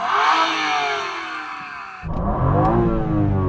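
BMW M2 engine revving through its exhaust, a rising whine that cuts off and then swells into a deep, loud, booming roar, heard close up with no talk.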